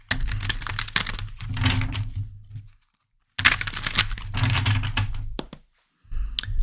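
Playing cards riffled and shuffled in two quick bursts of crisp, rapid flutter, each a few seconds long, separated by a short silence, close and fairly loud with no talking.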